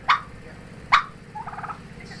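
Two sharp turkey calls ring out, followed by a rapid rattling gobble, close and clear against a quiet background, in a barn.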